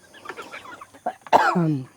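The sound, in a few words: chickens eating greedily, fed winged termites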